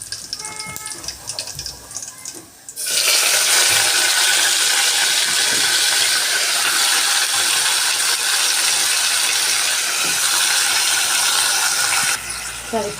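Washed chicken pieces hit hot oil with onions in a pan for gongura chicken and set off a loud, steady sizzle that runs for about ten seconds, after quieter kitchen clatter at the start.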